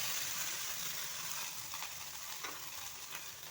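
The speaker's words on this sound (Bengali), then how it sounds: "তারপরে এতে মরিচ বাটাটা দিয়ে দিচ্ছি" Green chilli paste sizzles and fries steadily in a hot pan already holding five-spice tempering, a soft continuous crackle with faint stirring scrapes and no talking.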